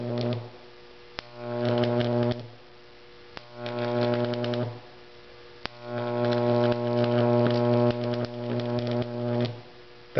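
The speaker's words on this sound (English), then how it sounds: "That's a pretty long arc." Long high-voltage electrical arc at 15,000 volts and 30 milliamps, a loud steady harsh buzz that swells and cuts out in several bursts, with sharp snapping clicks between them and no talking.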